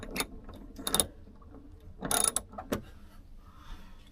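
Socket wrench ratcheting during work on a 1989 Chevy truck, a few short bursts of quick metallic clicks separated by pauses, close and fairly quiet.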